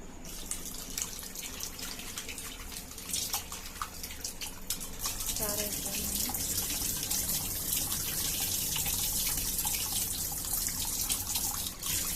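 Prawns being rinsed by hand in water, with continuous splashing and running water, louder and fuller in the second half, close and steady throughout.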